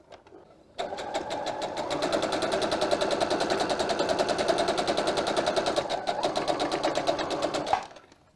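A sewing machine stitches a seam on a fabric car trash bag, a steady rapid mechanical whir that starts abruptly, runs continuously for several seconds and then stops.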